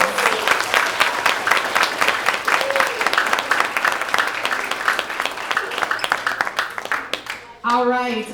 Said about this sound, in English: let's give one more big round of applause to all of our students